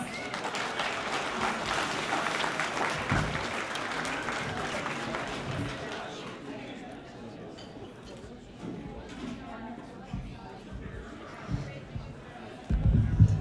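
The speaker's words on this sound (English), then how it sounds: "Let's give her a round of applause." At a charity gala for Ronald McDonald House Charities of Southern West Virginia, an audience applauds strongly, the clapping fading after a few seconds into crowd murmur, chatter and some bumps.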